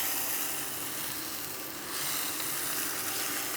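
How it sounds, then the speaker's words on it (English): Tofu sears in hot oil in a pan, giving a continuous close, bright sizzle that dips briefly in the middle and then resumes just as strongly. "Just a quick sear."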